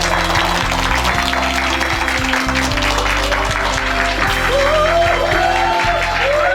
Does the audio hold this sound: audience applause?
yes